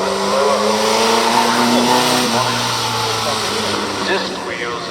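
Classic supercharged Bugatti Type 35 race car at the Prescott hill climb, a sustained engine drone with shifting pitch as it climbs, fairly loud and close, while a commentator talks over it.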